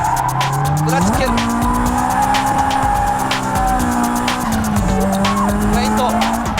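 A drifting car's tires squeal loud and sustained, with a steady engine drone beneath and a few pitch shifts as the slide changes.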